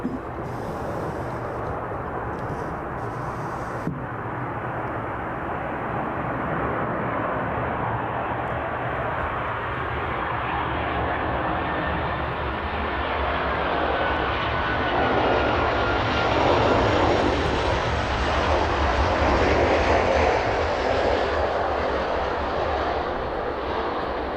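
A Jet2 airliner lands at East Midlands Airport at sunset, its engines a loud broad roar that builds slowly and holds steady throughout, with no talk over it.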